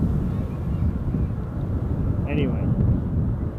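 An Icelandair jet at Amsterdam Schiphol airport makes a broad, steady low rumble, with wind buffeting the microphone and someone talking briefly over it.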